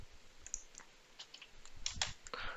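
Soft, scattered clicks of keys being typed on a computer keyboard, quiet and close, arriving in short irregular bursts with no talking.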